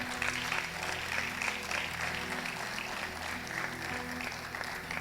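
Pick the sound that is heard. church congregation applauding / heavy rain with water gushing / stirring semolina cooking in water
church congregation applauding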